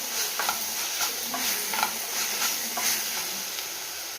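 A spoon scrapes and stirs a drumstick leaf mixture with salt and turmeric in a hot pan, rhythmic strokes over a steady sizzle and hiss.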